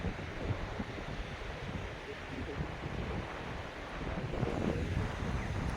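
Wind gusting over open sea beside a fishing boat, a steady broadband roar with lapping water that swells louder toward the end, with no voices present.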